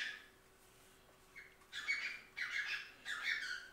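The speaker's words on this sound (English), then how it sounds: "them birds go to acting too loud or getting too loud" Birds squawk loudly in several harsh, scratchy bursts close by, starting after a quiet moment and repeating in quick clusters with no talk.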